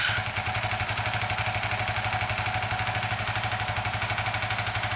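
A Suzuki FU 150 FI motorcycle engine idles close by with a steady, even, rapid putter that holds at a constant loud level throughout.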